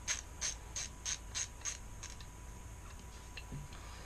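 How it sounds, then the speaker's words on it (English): A rebuilt, freshly greased hand ratchet clicks in six even, close bursts, then goes quieter with a few faint ticks and a soft low knock near the end. "the ratchet does sound a bit different now, but that could just be because I put the grease in there"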